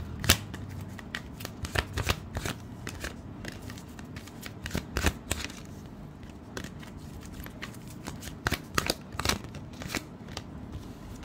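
Tarot cards are shuffled and drawn in a run of crisp riffling bursts and sharp flicks close to the listener, repeating irregularly for about eleven seconds without talk.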